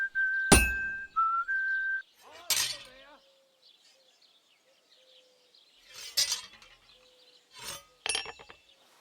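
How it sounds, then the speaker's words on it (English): A blacksmith hammering metal at a forge in Kingdom Come Deliverance 2: four sharp, ringing clanks spaced a couple of seconds apart, with someone whistling a short tune between them. "When I hammer a piece to a beat, the work goes by easier"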